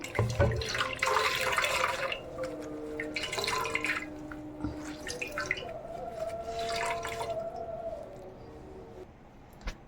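Water splashes and trickles into a pot in a few uneven pours, close by, with quieter gaps between.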